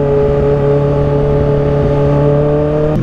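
A supercharged Kawasaki H2 motorcycle engine holds a loud, steady high rev close by, its strong harmonic whine sustained throughout without a break.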